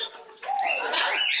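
A pet bird, a female on a new perch indoors, coos close by in soft, rising and falling tones that hold steadily for over a second after a quieter start.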